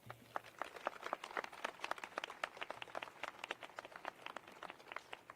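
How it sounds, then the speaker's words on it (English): An audience applauds at an outdoor Capitol Christmas tree event, with dense, even clapping from many hands that continues steadily without a break and sounds moderately distant. "Let's give a round of applause to Ms."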